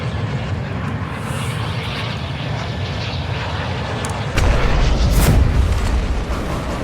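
Airplane engine drone during flight in the video game Warzone 2, a steady, loud broadband roar that gets heavier and deeper partway through, with a brief rushing swell near the end.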